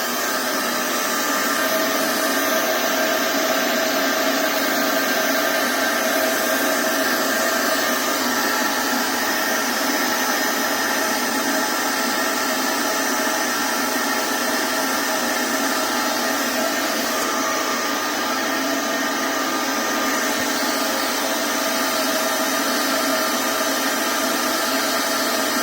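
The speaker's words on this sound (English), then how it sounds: "I'm going to set up the vacuum and then we'll run it through the system." A loud, constant roar of a shop vacuum running steadily and close by, drawing air through a DIY VHS tape mold cleaner, with no pauses or voices.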